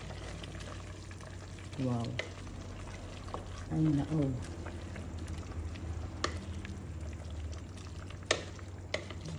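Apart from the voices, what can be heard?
stirring soup with misua, sotanghon and ground beef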